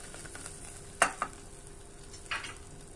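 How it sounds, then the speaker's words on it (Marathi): Coriander, turmeric and asafoetida crackle in a hot tempering over a low flame, a soft sizzle under a few sharp clinks and scrapes of a spoon stirring the pan, close but quiet, with no talking. "थोडीशी हळद टाकून घ्यायची, हिंग 2 मिनिट मिक्स करून घ्यायचं।"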